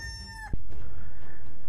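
Short cartoonish rooster crow rising and held in clear harmonic tones for about half a second, ending in a sharp thump, then a steady low rumbling bed continues underneath.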